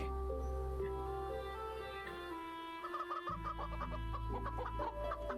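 Chicken clucking in a VRChat game world, a run of short repeated clucks over steady tonal background music, moderately loud and close.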